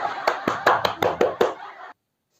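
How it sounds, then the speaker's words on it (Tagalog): A short burst of about seven sharp, evenly spaced hand claps from a small group, close and moderately loud, ending abruptly into silence. "Palakpak naman dyan."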